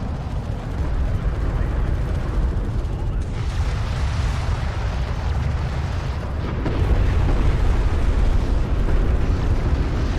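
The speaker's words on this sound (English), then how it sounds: "of course it's gonna finish it all with a cruise missile" A cruise missile strike in Homeworld: Deserts of Kharak lands as a sustained roaring explosion, dense low rumbling that swells louder in the second half and fills the whole stretch with continuous blast noise.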